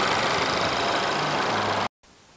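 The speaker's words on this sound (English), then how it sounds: "Under the hood is a 2-liter I-4 EcoBoost engine." A 2018 Ford Fusion's 2-liter I-4 EcoBoost engine idles with a steady, noisy hum for about two seconds, then cuts off abruptly into quieter background sound.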